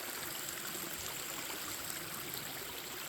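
A fast-moving creek about six inches deep rushes along a forest trail, making a steady, broad hiss and gurgle that is close and continuous, with no talking over it.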